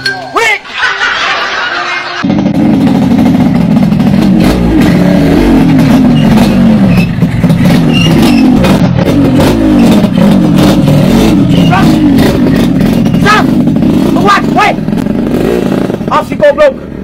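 A motorcycle engine revs hard and repeatedly, loud and close, with a rough, bursty rhythm throughout; a person's voice and laughter come through in places.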